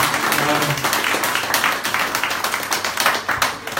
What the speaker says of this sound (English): can you give yourselves a very big round of applause right now?